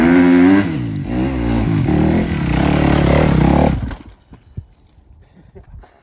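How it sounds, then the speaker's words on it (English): Dirt bike engine loudly revving and bogging down in second gear while climbing a steep hill, a strained, heavy roar that labors for several seconds, then cuts out abruptly, leaving faint rustles and thumps. "I bogged down. I was in second gear. It's not gonna make it."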